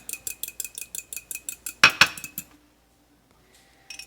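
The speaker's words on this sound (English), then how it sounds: "We're going to take our egg, and we're just going to lightly beat it," A fork beats an egg lightly in a bowl, tapping out quick, evenly spaced clinks that end with a sharp clatter, followed by near silence and a few faint taps.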